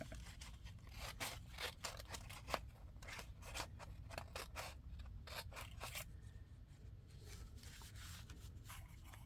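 Scissors trim paper ephemera during craft making, a quiet run of crisp snipping cuts in an uneven rhythm, close and soft, with no talk.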